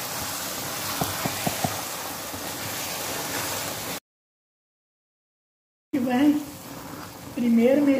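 Condensed milk is stirred in a hot, sizzling pan while making pé de moça peanut candy: a continuous close hiss with a few light scraping taps, broken by a short silent gap, with voices over the cooking.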